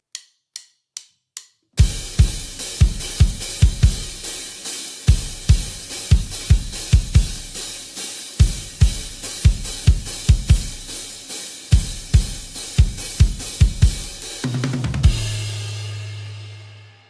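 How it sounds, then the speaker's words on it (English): Four clicks count in, then a drum kit plays a steady rock groove of hi-hat and kick drum, close and loud, ending on a ringing crash with a low sustained tone. "It's just hi-hat and kick."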